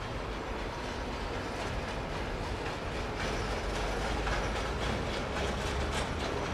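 Airport ground vehicles haul freight at Heathrow, giving off a continuous rumbling rattle with rhythmic clattering like wheels over joints. The noise is moderately loud and steady throughout, with no voices.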